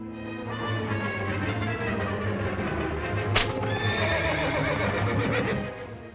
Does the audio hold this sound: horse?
yes